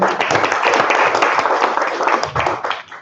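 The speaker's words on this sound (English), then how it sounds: "I think a round of applause for us is good" Crowd applause at a conference event in Kenya, a dense, steady wash of many hands clapping, loud and sustained for the whole stretch with a faint murmur beneath.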